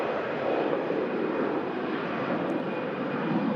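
easyJet Airbus A320 airliner departing for Lisbon, a loud, steady broadband jet engine roar filling the whole moment, close and continuous without talk.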